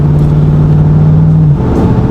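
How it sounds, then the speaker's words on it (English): A GMC Yukon 5.3 with an aftermarket exhaust accelerates on the highway, giving a loud, steady low engine drone that holds one note before shifting as it rolls through the gears. "I'm gonna let the truck just roll through the gears."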